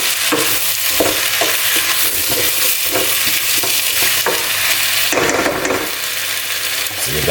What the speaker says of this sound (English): we're gonna chuck this inside of it and mix it together